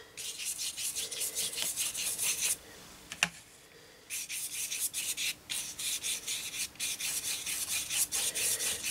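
Brush scrubbing red paint across a waxed craft picture, close rhythmic rasping strokes in repeated bursts with short pauses and a small knock partway through.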